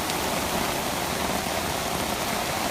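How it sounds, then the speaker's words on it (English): Heavy floodwater runs through a Mid-City street about two feet deep, a steady, dense rushing and splashing hiss that stays even and fairly loud throughout, with no voices. "There is some really heavy flooding going on."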